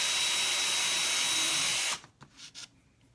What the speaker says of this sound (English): So I'm gonna drill my 2 holes right here.